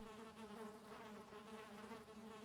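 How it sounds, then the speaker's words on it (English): Bees swarming around a beehive in the video game Valheim, a steady, dense insect drone that holds at an even level throughout with no talking over it. "Bees."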